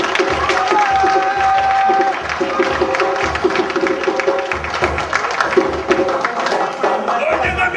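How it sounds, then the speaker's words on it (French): Theatre audience applauding performers at an evening show, a dense, steady wash of clapping that carries on throughout with some voices and chatter mixed in underneath. "Alors, applaudissez-les vraiment."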